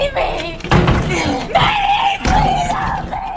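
A door is pounded in a film scene, heavy thumps landing twice amid a frightened woman's loud yelling and screaming.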